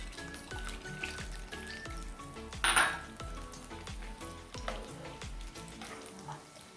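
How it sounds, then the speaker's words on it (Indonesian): Peanuts fry in a hot pan, giving a steady soft sizzle with light crackling and one brief sharper clatter midway, no voices. "Ini dimasak digoreng sampai kacangnya kekuning-kuningan atau matang."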